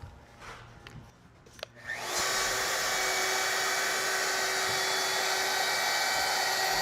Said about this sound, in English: let's try a router with an OG cut on it